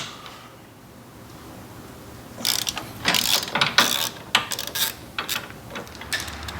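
Hand tools working bolts on the saddlebag guards of a 2024 Harley-Davidson Road Glide, with a 3/16 Allen and T45 Torx; a string of close ratcheting clicks and metallic ticks in bursts after a quiet start, with no talking.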